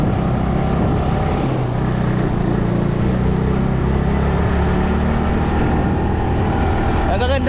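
A motorcycle engine drones steadily at close range, a low continuous rumble throughout with a brief rattle near the end.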